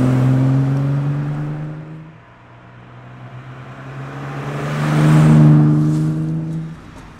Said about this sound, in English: It's an unmistakable Aston Martin only exhaust note.